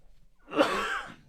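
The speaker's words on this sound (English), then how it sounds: "I'm going to cough one more time." A man gives one short, close, breathy cough that lasts about a second, alone, with no talking.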